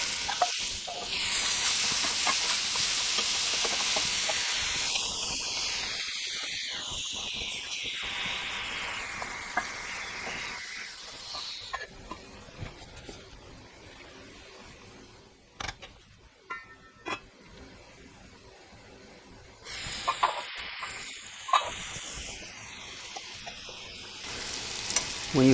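Chicken pieces sizzle and fry loudly in foaming garlic butter in a pan, a dense steady crackle that eases midway, with occasional stirring clicks, then swells again near the end.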